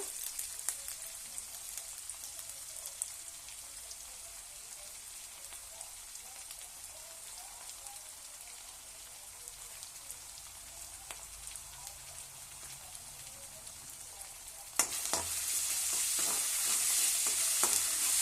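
Onions with ginger-garlic paste and salt fry steadily in a pan for palak rice, a soft continuous sizzle with scattered crackles and stirring, growing louder and brighter near the end, with no talk.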